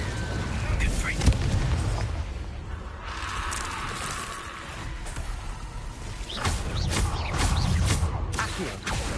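Fiery magical explosion spell blasts in the Hogwarts Legacy video game, several booming bursts with rumbling crackle spread across the clip amid other game sounds.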